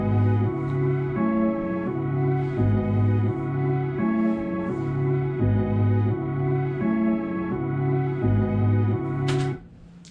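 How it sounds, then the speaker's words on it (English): A boom bap beat melody of looping sustained chord tones that shift in a repeating pattern, steady and moderately loud, then cut off abruptly near the end with a brief noisy swish. "I actually managed to come up with a decent melody"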